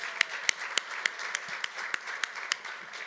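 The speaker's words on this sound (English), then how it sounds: "Can we give Sean and Oksana a round of applause" Applause at an investor forum, sparse and fairly quiet, with a few distinct claps ringing out at a steady rhythm over a thin patter of other hands, and no talking.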